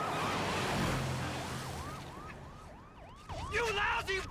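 An ambulance siren in an animated film wails in a steady run of rising and falling sweeps, loud and close, then briefly drops back before a burst of other bright, noisy sound at the end.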